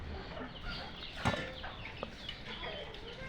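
Free-ranging desi chickens in a tribal village at evening give a couple of short, brief clucks over steady outdoor background noise, with no talking.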